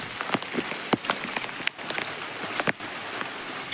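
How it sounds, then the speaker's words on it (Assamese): Rain falls steadily on surfaces in a village in Assam, a constant soft hiss broken by scattered sharper drops and taps, close by and moderately quiet, with no talking. "বৰষুণ দি আছে"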